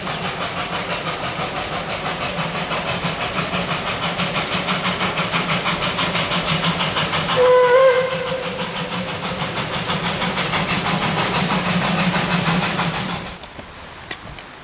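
A Puffing Billy steam train arriving at Gembrook rumbles and hisses steadily, with a brief whistle-like tone midway, then the noise drops away near the end.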